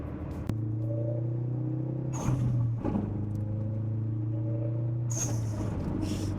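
A big-turbo Ford Focus RS engine runs close by with a steady, throaty drone. Two sharper rev blips rise out of it, near 2 and 5 seconds in.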